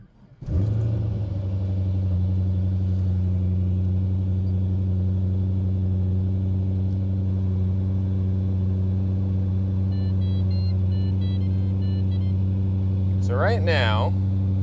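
A Pontiac GTO engine cranks and fires, then settles into a steady, deep, close idle that drones on unchanged, while someone talks briefly over it.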